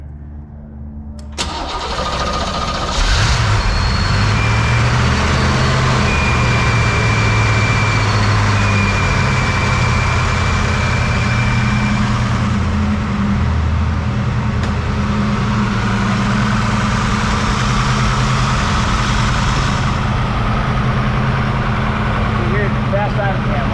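A supercharged 1962 Corvette engine cranks and catches, then settles into a steady, loud fast idle with a deep rumble that continues throughout.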